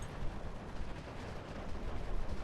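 Close-range submachine gun and MP44 assault rifle fire in Steel Division 2, a dense, continuous rattle of overlapping shots with heavy low rumble throughout.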